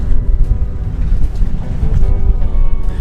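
Steady low wind rumble buffets throughout on New Zealand's South Island, loud and close, with gusty swells and no voices.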